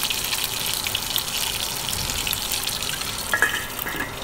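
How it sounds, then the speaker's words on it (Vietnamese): Fish pieces fry in a hot pan with a continuous hiss and sizzle, steady and close, with a few brief crackles toward the end. "mình bắt chảo lên cho nóng chảo và bỏ cá vào chiên nha các bạn"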